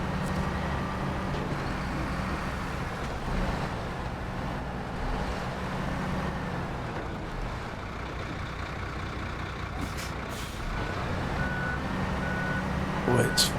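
An articulated truck in the video game Snowrunner reverses with a rumbling engine drone, and a steady series of evenly spaced reversing beeps stands out clearly near the end.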